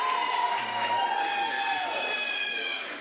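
Steady applause and cheering from an audience at a school advisory board meeting, a dense continuous wash of clapping that holds for the whole stretch before easing slightly at the end.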